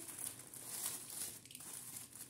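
Steady crinkling and rustling of paper and tape being pulled at up close as a package wrapped in lots of tape is opened, with soft tearing sounds, no voices.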